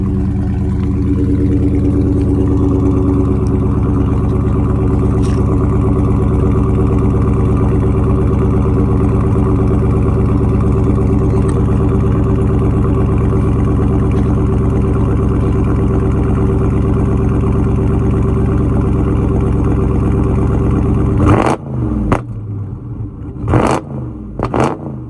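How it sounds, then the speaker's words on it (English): A Dodge Charger Scat Pack 392 widebody with minor damage holds a loud, steady high rev for about twenty seconds, then drops and blips twice more in short bursts, heard up close. "I'm gonna see if I can rev it up for y'all."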